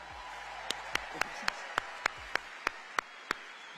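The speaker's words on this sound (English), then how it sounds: "Give yourselves a round of applause" Crowd applause fills a campaign rally in Duluth, Georgia, a quiet, steady patter of many hands with one nearby person clapping in a sharp, regular beat about three times a second.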